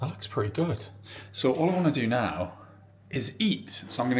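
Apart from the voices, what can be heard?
No everyday noise stands out behind the speech.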